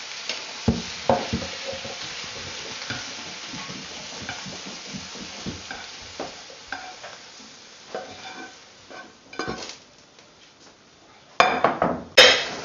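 Vegetables tumble into a simmering beef oxtail kare kare stew and get stirred, with steady sizzling and bubbling, scraping spoon strokes, and a burst of louder clatter and clinks near the end.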